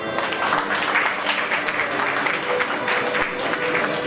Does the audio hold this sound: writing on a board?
no